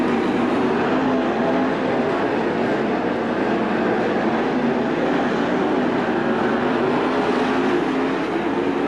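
Race cars at Attica Raceway Park, a steady distant roar of several engines blending into a continuous rumble with no clear individual passes.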